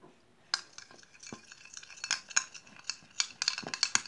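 A utensil clicks and scrapes rhythmically against a bowl while stirring a thick egg white and lemon juice mixture, close and fairly quiet, with quick irregular strokes picking up pace.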